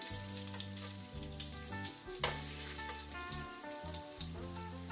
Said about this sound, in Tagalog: i-fry natin isa-isa yung hiniwa natin na boiled patatas